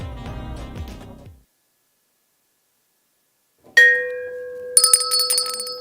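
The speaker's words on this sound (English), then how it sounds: "You like a bell? Yes, I love that bell, but nobody ever rings it because it hurts my ears." A studio bell rings on a radio talk show: two bright metallic strikes whose clear tones linger and fade, following brief talk and a pause of silence.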